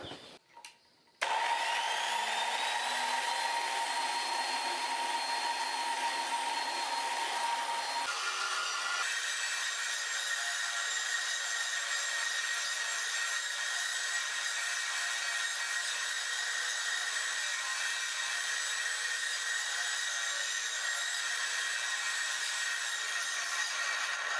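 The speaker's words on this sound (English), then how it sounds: "I'm not happy with that rough edge on the brake rotor, so we're going to smooth that down." A power tool grinds steadily to smooth a rough edge on a brake rotor, a continuous whining hum that shifts tone partway through and runs on alone without talk.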